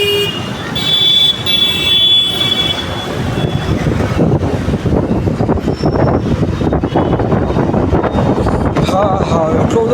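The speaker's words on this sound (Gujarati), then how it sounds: "એટલો બધો પવન આવે છે ને ભાઈ." Strong wind blows outdoors in Surat, a loud, steady buffeting roar that fills all ten seconds, with voices and faint vehicle horn tones mixed beneath it.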